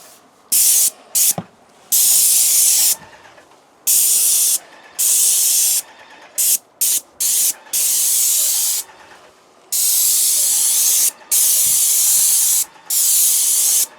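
A paint spray gun on a pivot fitting sprays house paint in loud, close bursts of hiss, each lasting about half a second to a second and a half, separated by short quiet gaps, with no talking.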